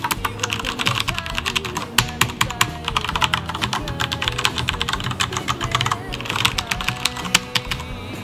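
Close, crisp keystrokes on a Tt eSports MEKA G-Unit mechanical keyboard, typed in quick uneven bursts with a few sharper hits, heard on their own without speech.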